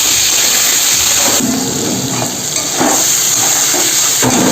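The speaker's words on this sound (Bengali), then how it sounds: "এর মধ্যে সিদ্ধ করে রাখা সয়াবিনগুলো দিয়ে ভেজে নেব হালকা করে।" Boiled soy chunks and pointed gourd frying in a pan, a loud, steady sizzle and hiss up close with faint stirring scrapes.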